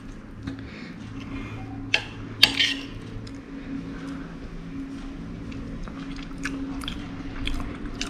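Someone eats pepper vathal kuzhambu, a tangy tamarind curry with black pepper and sesame oil, from a plate. Soft chewing and a couple of sharp utensil clicks against the dish sit over a low steady room hum.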